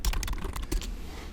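Keys clack in quick succession on a computer keyboard as code is typed, including presses of the tab key, a close run of crisp taps that slows and fades toward the end.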